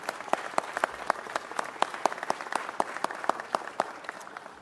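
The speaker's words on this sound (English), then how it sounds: "How about a big round of applause for Cesar Medrano?" An audience at a city council meeting gives a round of applause, steady clapping with sharp individual claps punctuating it and holding at a moderate level throughout.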